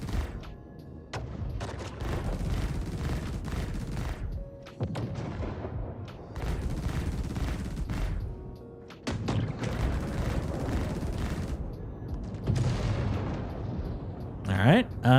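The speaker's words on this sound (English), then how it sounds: "Great job on the explosion sounds." Explosions in a multiplayer video game session rumble in a continuous, heavy barrage of booms and blasts, loud and sustained, with a voice speaking over the din.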